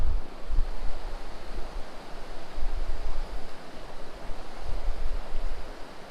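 Steady rushing water of a fast-flowing river near Hope, British Columbia, fills the scene with broadband noise and low rumbling gusts, loud and close, with no voices.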